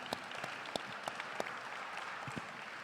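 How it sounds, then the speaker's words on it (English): Conference audience applauding the translators, a fairly faint, steady patter of clapping with a few sharper individual claps standing out. "one round of applause for the translators over there."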